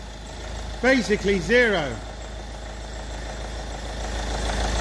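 A diesel vehicle with a DPF fault idles after starting, a steady low engine rumble running under a brief spoken remark and continuing alone.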